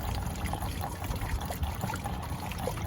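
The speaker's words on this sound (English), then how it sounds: "Let's go ahead and add a gallon of water in here." Plain water poured from a gallon jug into the coolant system of a Ford F-250 Super Duty with a V10 6.8 engine, a steady close trickling gush throughout with no talk.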